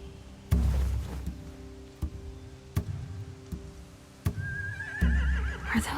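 Horses in The Walking Dead video game whinny over a stable-like scene, with a loud neigh near the end and several hollow thuds and hoof knocks scattered throughout.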